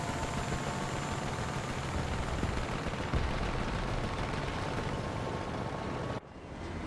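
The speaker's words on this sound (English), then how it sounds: "can you hear a helicopter? Hear him in the background?" A helicopter in the War Thunder ground-forces game drones steadily in the background, a dense continuous rumble mixed with battle noise that drops off abruptly near the end.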